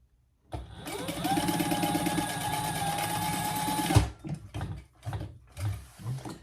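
A sewing machine stitches vinyl for a storage caddy with a steady, close mechanical whir for about three and a half seconds, then stops abruptly as the bobbin runs out. Brief handling clunks and rustles follow.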